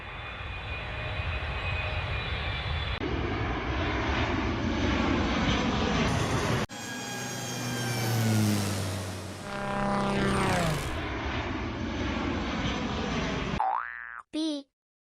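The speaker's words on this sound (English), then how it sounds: "A for airplane" A cartoon-style airplane engine drones loudly and steadily, its pitch shifting midway through, then a quick springy boing sound closes it out.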